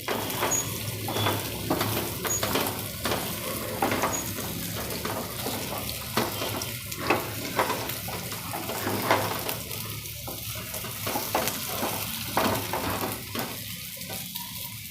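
Coated soya chunks fry in oil for soya vadi manchurian, giving a continuous close sizzle broken by repeated stirring and scraping strokes.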